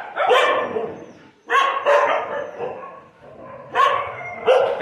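Several dogs bark in repeated bursts at a stray dog shelter in Ban Fang, Khon Kaen, where disabled strays are housed; loud, close barks and yips with short pauses between volleys.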